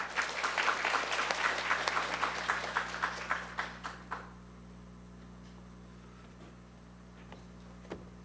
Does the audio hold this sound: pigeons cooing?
no